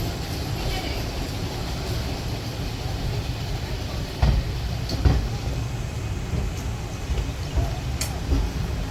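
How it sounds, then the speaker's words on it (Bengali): Passenger express train running on the rails after pulling out of Naihati station, a steady close rumble of the coach with a few sharp clanks and rattles from the wheels and couplings. "আমাদের ট্রেন নৈহাটি ছেড়ে দিল।"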